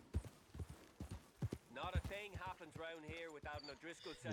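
Horse hooves clip-clopping in a video game, a run of sharp regular hoof knocks at first, then continuing faintly under talking.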